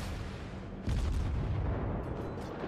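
Heavy naval gun salvo in World of Warships, a deep booming blast over a constant low rumble of battle, followed by a few faint later reports.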